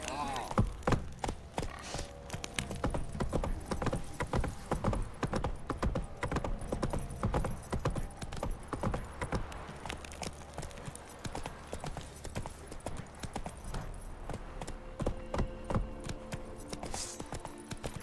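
Roach, the horse in The Witcher 3, trots with steady, rapid clip-clop hoofbeats on hard ground, continuous and fairly close, with in-game sounds underneath.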